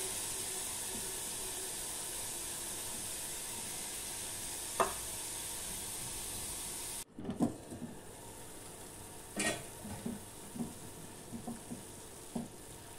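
Bottle gourd sautés in a pan with a steady broadband sizzle for several seconds, then quieter close spatula scrapes and taps as the pieces are stirred.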